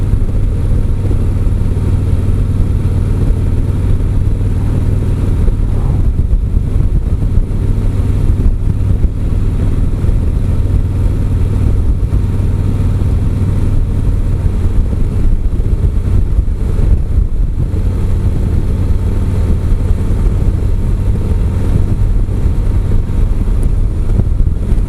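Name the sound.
2017 Harley-Davidson Street Glide Special riding in sixth gear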